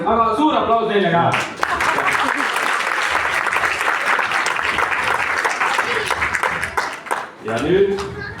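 Loud, steady applause fills a school hall at a playback show awards ceremony, hailing the audience-favourite winners; a voice speaks briefly before the clapping swells and continues unbroken to the end.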